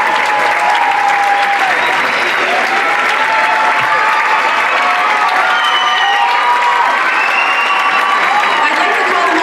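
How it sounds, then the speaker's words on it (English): A large audience at a student cultural show applauds loudly and steadily, with scattered cheers and whoops over the dense clapping and voices faintly audible in the crowd. "So let's give them a round of applause."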